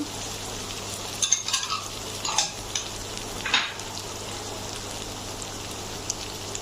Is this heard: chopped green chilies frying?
yes